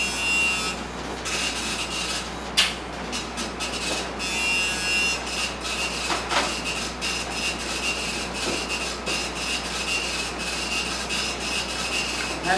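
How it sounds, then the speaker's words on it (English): A printer runs steadily through an inventory report during an automotive mechanics lecture, giving a continuous rasping, scratchy mechanical chatter with small repeated clicks, moderately loud and close, with no talking over it. "that's what it's printing out this inventory report"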